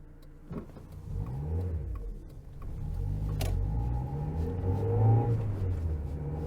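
A Mazda MX-5 NA accelerates from inside the cabin, its engine note rising steadily through the revs with a low rumble, moderately loud and continuous.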